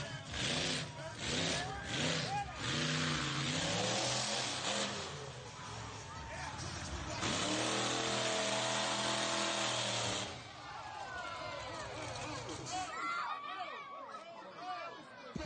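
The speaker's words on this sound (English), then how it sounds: "hear that throttle hung." A truck engine with a stuck throttle roars at high, sustained revs, its pitch rising and falling, with crowd chatter and talking underneath.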